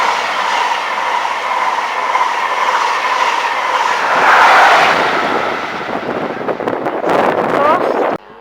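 A class 365 electric train runs through Peterborough station toward London King's Cross, a loud rolling rumble and whine close by, with rhythmic wheel clatter building and fading near the end.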